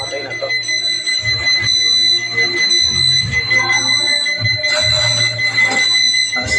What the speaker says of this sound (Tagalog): Pag nag-alarm yan, mamamatay na to.